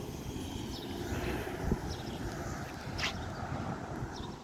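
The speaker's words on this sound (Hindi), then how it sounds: "अभी मैं जब बाहर आई तो ज़्यादा हवा नहीं थी और अब तेज़ हवा हो गई है।" Strong wind blows outdoors in Cleveland, Ohio on a summer day, a steady broadband rush with gusty low rumble buffeting the microphone throughout, loud and continuous with no voices.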